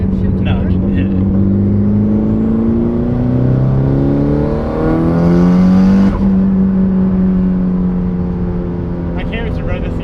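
Mitsubishi Evo accelerates hard in third gear, the engine note climbing steadily in pitch as it pulls, loud and close from inside the cabin, with a brief lift near the end before the drone continues.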